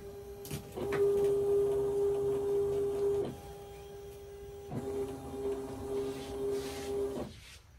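A Silhouette Cameo cutting machine runs in two motorized passes, a steady mechanical whine with small stops and starts, fairly close with no talking.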